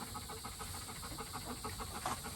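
A young livestock guardian dog puppy pants in a quick, steady rhythm, close but faint, against a constant background hiss, with no talking.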